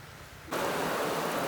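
Steady rain pours down suddenly after a quiet moment, a dense, loud hiss of falling water that continues without a break.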